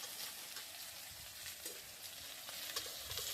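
Ground masala paste of roasted coconut, garlic and roasted eggplant sizzles and frys in a pan while being stirred, a steady close crackle with scraping strokes, no talking.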